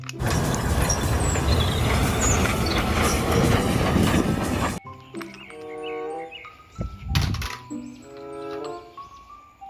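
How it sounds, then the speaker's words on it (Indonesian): Toy train wagons roll with a dense, steady rattling clatter for about five seconds, then stop; brighter tonal toy sounds and a few knocks follow, fairly close and loud, with no talking. "Gerbong kereta."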